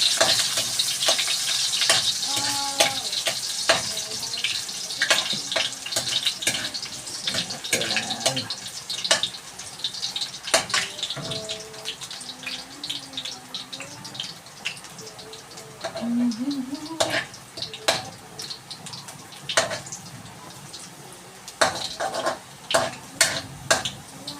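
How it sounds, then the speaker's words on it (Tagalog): Dinuguan ingredients sautéing in a hot pan, a steady loud sizzle with clinks and scrapes of stirring, while a voice talks now and then. "Gisa na natin."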